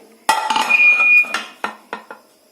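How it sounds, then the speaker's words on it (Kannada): The whistle is lifted off a pressure cooker with a sharp metallic clank, a brief ringing scrape, then several lighter clinks and taps of metal on metal, close and clear with no talk. "ಇದನ್ನ ಕುಕ್ಕರ್ದು ವಿಸಿಲ್ ತೆಗೆದುಬಿಡ್ಬೇಕು"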